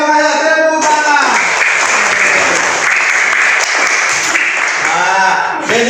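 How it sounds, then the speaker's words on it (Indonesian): Loud, steady applause from a classroom of students at an Indonesian tajwid lesson, filling several seconds and tapering at the end, with a teacher's voice briefly at either edge. "Tepuk tangan"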